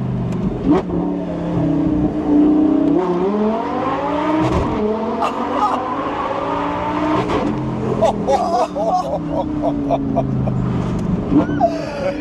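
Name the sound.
sports car engine revving and accelerating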